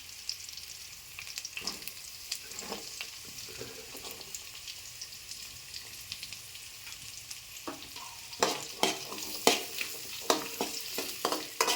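Cumin and ajwain seeds dry-roast in a pan with a soft, steady sizzle, broken by light scraping and stirring taps that grow busier and louder toward the end.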